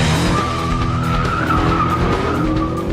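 Renaultsport Megane launching hard in sport mode for a drag race against an Astra VXR and Ford Focus ST, loud close engine roar rising with tyre squeal throughout, no talking.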